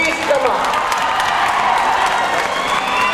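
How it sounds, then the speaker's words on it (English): Enthusiastic applause with some cheering and whoops as a new principal is announced at a college foundation day ceremony, loud and continuous, with a voice faintly mixed in. "Give him a big applause."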